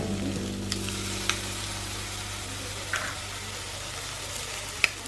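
Egg bhurji sizzling and frying in a pan, a steady hiss with a low hum beneath and a few sharp spatula scrapes and taps scattered through, close and continuous.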